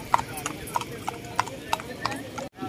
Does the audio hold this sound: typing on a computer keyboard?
no